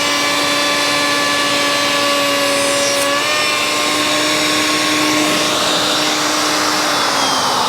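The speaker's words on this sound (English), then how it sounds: "this is that router with the variable speed" A variable speed router with a large bit cutting wood for a template, a loud sustained whine that holds steady then shifts pitch slightly as it follows the cut, with no talk.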